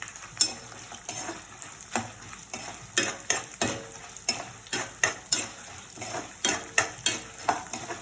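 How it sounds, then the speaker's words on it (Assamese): Chana dal and matar dal frying with green chillies, garlic and ginger in a pan, stirred briskly with a utensil that scrapes and clacks in a repeated rhythm over a soft continuous sizzle. "চানা দাইল মাটি দাইলটো জলকীয়াখিনি আৰু নহৰু আৰু আদা দি ভালধৰণে এতিয়া লৰাব লাগিব"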